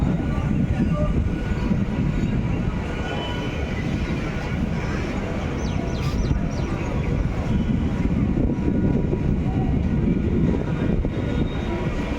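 Steady, loud rumble of a train at platform five of Dum Dum station, a dense low roar that holds unbroken throughout with no voices standing out.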